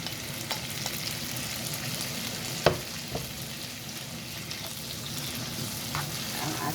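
Tomatoes frying in a pan with tuna give a steady soft sizzle, with a clear clack of a utensil and a few light stirring taps.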